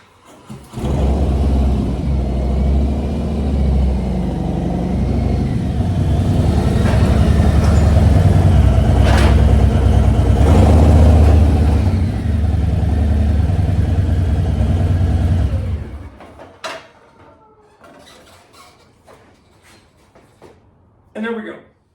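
Harley-Davidson M8 Softail motorcycle engine running steadily and loud for about fifteen seconds as the bike is moved in, then cutting off, leaving faint clicks and shuffling.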